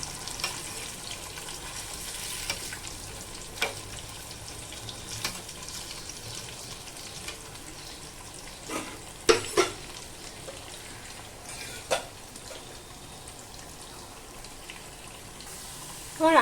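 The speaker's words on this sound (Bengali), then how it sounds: "আমি আলুটা খুব ভালোভাবে ভেজে নেব।" Potatoes fry in a pan while being stirred for chicken dum biryani, a low continuous sizzle broken by occasional sharper scrapes and clatters of the spatula.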